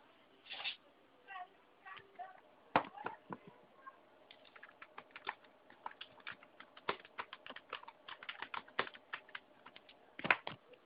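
Irregular, quick keystroke clicks from a computer keyboard as a password is typed at a Windows 7 Enterprise login, close and fairly crisp, with short pauses between bursts of keys.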